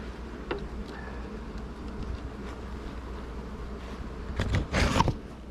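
Bees humming around beehives outdoors, a steady low drone with individual insects buzzing close past the microphone, swelling louder near the end.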